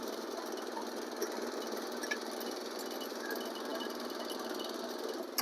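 A BCS 712 walk-behind tiller rototills soil at low engine speed, giving a steady, continuous engine drone with a faint rattling texture, heard alone without talk.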